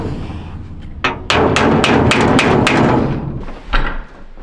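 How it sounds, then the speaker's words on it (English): A stuck bolt on a truck dump bed is struck hard with a hammer, a rapid series of about seven loud metallic blows followed by a final heavy thud. "I was hitting that bolt so hard that it got stuck in my socket"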